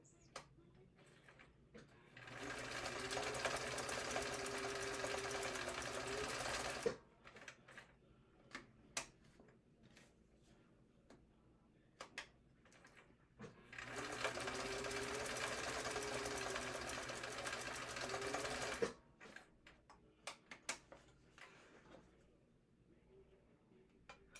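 Sewing machine chain stitching small wallet pieces, two long steady runs of rapid stitching separated by pauses with handling clicks and snips, fairly close.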